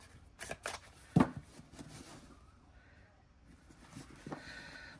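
Stone and Shadow Oracle cards are shuffled by hand in quiet, short bursts of riffling and sliding, separated by brief pauses.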